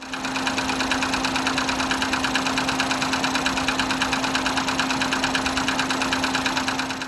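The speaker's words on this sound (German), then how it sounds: "Dann haben wir den Wagen nochmal laufen lassen und der klang immer noch ganz doof" A Ford Fiesta engine idles roughly with a persistent uneven knocking pulse, a continuous mechanical drone with no voices.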